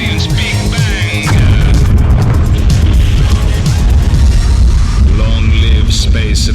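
A Big Bang explosion effect, a loud, sustained booming roar with crackling bursts that fills several seconds over music, with a voice present.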